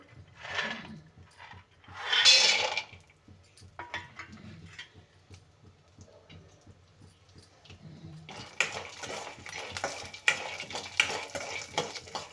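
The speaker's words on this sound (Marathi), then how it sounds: "त्याच्यावर आपल्याला हे शेंगदाणे छान भाजून घ्यायचे आहेत" Dry scraping and rattling of peanuts roasted and stirred in a kadai with a little oil, quiet at first with brief scrapes, then a steadier, louder gritty rustling toward the end.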